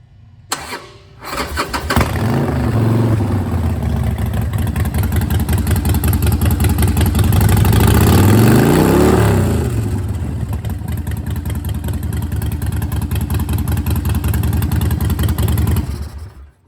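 A 2017 Harley-Davidson XL1200T Sportster Superlow with keyless start cranks, fires up and settles into a loud, close, steady lumpy idle that runs for over ten seconds before cutting off.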